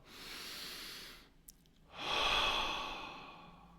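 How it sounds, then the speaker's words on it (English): Two long, airy breaths stand alone with no talking, a softer one first, then after a brief pause a louder, fuller inhale that swells and slowly fades. "Take a breath in on that one."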